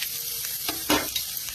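Chopped ingredients fry in a pan with a loud, continuous sizzle, broken by brief scraping bursts as they are stirred.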